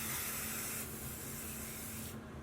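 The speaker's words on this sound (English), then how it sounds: "So I just kind of spray it" A close, steady hiss of an aerosol hairspray, held for about two seconds before tapering off.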